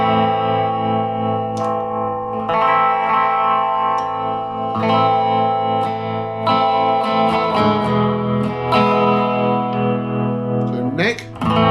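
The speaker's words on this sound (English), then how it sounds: "so we've got it plugged into the workshop amp. We've got a bit of reverb and tremolo." Squier 40th Anniversary Jazzmaster electric guitar chords ring through a workshop amp, shimmering with reverb and a pulsing tremolo, strummed repeatedly and fairly loud with no talking.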